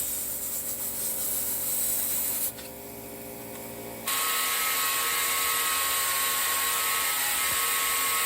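A steady high-pitched whine of a power drill boring a hole for a bolt, running continuously, dipping briefly in the middle before resuming at full strength.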